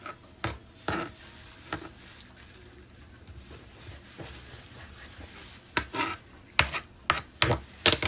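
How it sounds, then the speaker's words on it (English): Chicken liver being cut into pieces for a curry, a series of knife taps on a board, sparse at first then quicker clustered chops near the end, close and moderately loud. "So I'm gonna cut it up."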